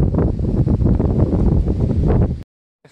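Strong wind buffets the microphone outdoors on an October bicycle tour from Calais, France toward Spain, a loud continuous roar with gusty swells that cuts out abruptly near the end.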